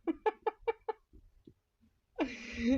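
A short series of hen clucks in a garage where they lay eggs, five quick pulses followed by softer scattered calls, then a louder drawn-out squawking cackle close by.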